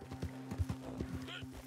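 Horse galloping in Red Dead Online: a steady run of hoof clip-clops with a brief whinny, heard under someone talking throughout.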